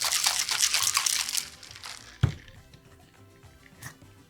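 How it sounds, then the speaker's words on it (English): Ice rattles in a cocktail shaker with raspberry syrup for a tequila drink, a rapid rhythmic clatter up close that fades out midway, followed by one sharp knock and faint handling noises. "shake your ingredients until chilled"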